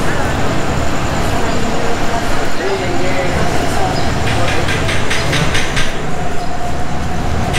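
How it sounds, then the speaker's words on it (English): An old third-class train to Ayutthaya, Thailand rumbles along in loud, steady motion with rhythmic clatter from the rails, while voices carry faintly through the carriage. "this is like old school train"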